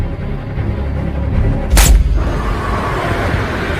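A single sharp, loud sniper rifle shot in the action film Gemini Man cracks out midway over a steady, dense film soundtrack background.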